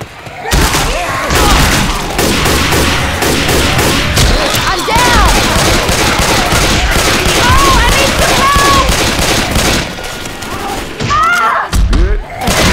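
Dense gunfire from shooting zombies in Left 4 Dead 2, rapid bursts and thumping shots nearly nonstop at high volume, with voices shouting over the chaos.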